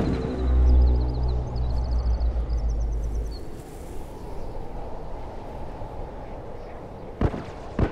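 A grenade going off in The Last of Us multiplayer, a loud low booming blast with a rumbling tail that fades into ambient noise, followed later by a couple of sharp cracks.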